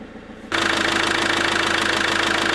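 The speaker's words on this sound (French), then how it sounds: "Moteur en marche" A Fiat Ducato diesel engine catches and settles into a loud, steady idle with a rhythmic mechanical knock after a fuel filter change, close to the microphone.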